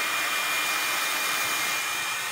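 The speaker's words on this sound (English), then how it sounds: "one more sec for the heat tool" A heat tool blows hot air over a stamped watercolor card in a steady, loud, close whoosh with no pauses or speech.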